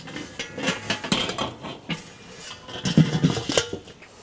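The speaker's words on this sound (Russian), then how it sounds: "И сковородочку туда, в гриль." Metal cookware clanks and scrapes as a frying pan is slid into place inside a grill, with scattered rattles and knocks close by.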